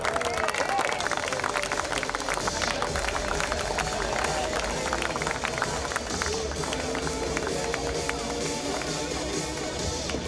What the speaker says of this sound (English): Can we please applaud them as they head onto the court?